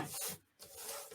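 Scissors trim a paper tag for a Christmas journal envelope, making a close, quiet rasping cut in two short strokes with a brief gap between them.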